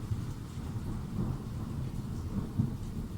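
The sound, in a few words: thunderstorm with thunder and rain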